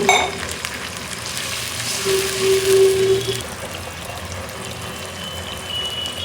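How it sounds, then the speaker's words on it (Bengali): Fried onions sizzle steadily in a pan as a little water is added for a Bengali curry, with a louder hissing surge midway before the frying settles back to a constant crackle; no one talks. "পেঁয়াজটা কিন্তু ভাজা ভাজা হয়ে গেছে আমি এখন দিয়ে দিব হচ্ছে সামান্য পরিমাণ পানি"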